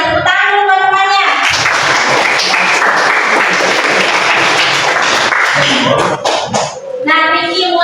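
Students in a classroom clap together for several seconds, a dense burst of applause that starts and fades, with a teacher's voice heard before and after it.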